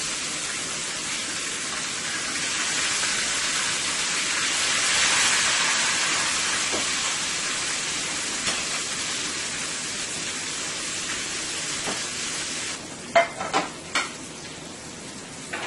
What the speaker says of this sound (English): See how nice and golden brown this is frying?